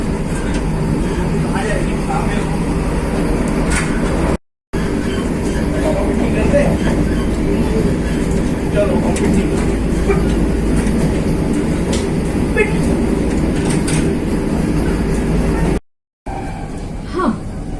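A train rolls steadily toward Jammu Tawi station in hilly country, with a loud, continuous low rumble and faint rhythmic clatter from the wheels, heard from inside the carriage and cut by two brief silent gaps.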